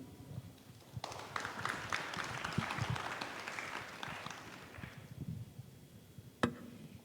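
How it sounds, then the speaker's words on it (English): Audience applause at an APEC media focus group session in Thailand, a faint, somewhat distant burst of clapping from a modest crowd that rises after a second, tapers off, and ends with one sharp knock. "A big round of applause for our session,"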